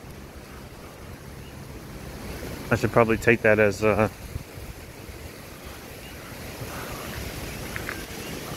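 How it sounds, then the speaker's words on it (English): Strong gusts buffet the microphone at night on Richardson Beach in Hilo, giving a steady low rumble with surf mixed in. Someone speaks briefly in the middle. "It's really windy, but it actually hasn't started raining yet."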